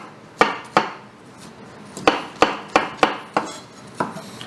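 Onion being chopped into small pieces with a knife on a cutting board in a home kitchen. About nine sharp, close knocks arrive in uneven bursts, with a longer gap in the middle.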